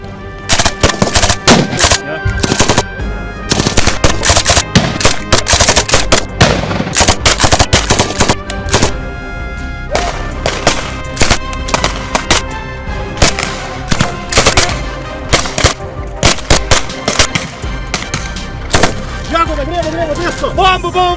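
Dense bursts of rifle and machine-gun fire crack out loud and close during an infantry live-fire tactical exercise with mortar support, volleys overlapping almost continuously, shouted voices heard between them.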